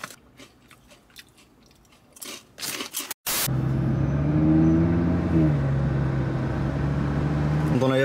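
Someone munches Monster Munch crisps inside an Audi RS3. Quick crunchy bites and chewing come up close and break off suddenly, then give way to a steady, loud road and engine drone.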